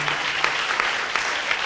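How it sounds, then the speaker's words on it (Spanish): An audience at a lecture event applauds a guest speaker with steady, dense clapping from many hands, filling the room at an even level throughout. "quisiera pedirles a ustedes un aplauso para Mauricio Lectorat"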